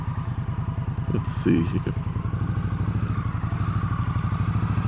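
A 2017 Victory Octane motorcycle rides along with a steady, loud, throbbing engine rumble and wind roar, with occasional clatter, while a rider speaks briefly over it.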